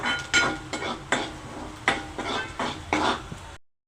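Onions reddened in a pan are stirred, giving a series of quiet scraping and clinking strokes of a utensil against the pan in an irregular rhythm, close and soft, with no talk.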